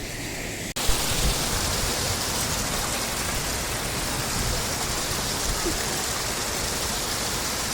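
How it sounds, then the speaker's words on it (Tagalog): Large waves at high tide wash onto a rocky shore in Quezon Province, a loud, continuous roar of surf that swells after a brief quiet opening and then holds steady and close. "pa-high tide na mga guys. Kaya malalaki na yung alon."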